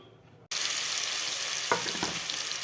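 Paneer fries and browns in a hot pan, a dense loud sizzle bursting on after a quiet moment and continuing steadily, with a couple of stirring scrapes partway through.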